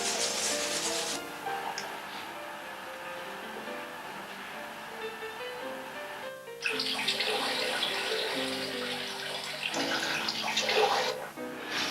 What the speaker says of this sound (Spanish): Las hojas, que vienen agrupadas en matules, deben mojarse en agua para que queden húmedas y dóciles